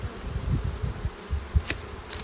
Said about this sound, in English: The bees are in the hive.